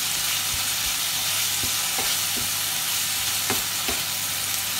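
Onions fry for moussaka in a hot pan, a constant close sizzle with several soft scraping stirs spaced through it, no voices.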